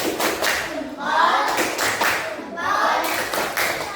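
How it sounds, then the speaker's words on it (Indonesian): A teacher leads a class in the rhythmic tepuk salut clapping chant, with bursts of claps and hand slaps in a patterned rhythm, close and fairly loud, with voices chanting between. "mari kita berikan tepuk salut dulu untuk kita semuanya"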